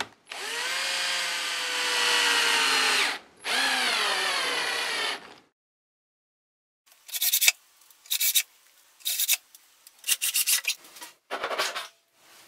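Power drill driving screws into a plywood garden table top: two long, loud whirring runs with falling pitch, then a series of short bursts and clicks of the drill starting and stopping, close by with no talk.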